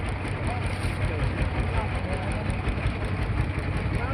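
A river boat's engine drones steadily as the boat turns back at the three-river confluence in Chandpur, a continuous close rumble under constant wind noise.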